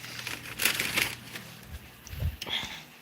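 A wrapper is crumpled and tossed into a makeshift garbage bin during home cooking of egg rolls, making crisp, close crinkling bursts in short clusters, with light speech in the background.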